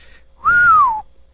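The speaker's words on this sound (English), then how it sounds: "he whistled" One short whistle rises slightly and then slides downward in pitch, clear and close against near silence.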